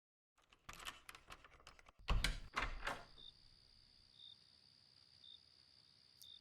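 Double doors leading to a garden swing open, a few close wooden knocks and a scraping creak, then a quiet ambience with insects chirping faintly.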